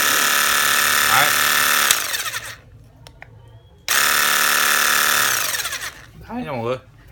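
An Ozito 18V cordless drill whirs at high speed in two bursts with a quiet pause between, a voice speaking briefly as it winds down.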